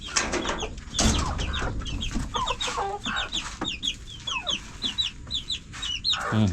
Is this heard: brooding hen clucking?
yes